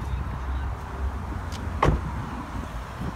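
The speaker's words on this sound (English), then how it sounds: "Opening up the boot." The boot of a blue Nissan Qashqai is opened, giving one sharp latch click and a short thud midway through, over a low steady background hum.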